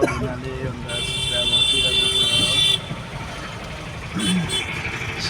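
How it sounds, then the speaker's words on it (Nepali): Car horns toot repeatedly in busy road traffic in Siliguri, heard from inside a moving car with engine and road noise throughout and a voice talking over it. "सिलगढीमा चाहिँ फेरि कुदाउनुभन्दा बेसी चाहिँ हर्न नै बजाइन्छ टिङ टाङ टिङ टिङ गर्दै"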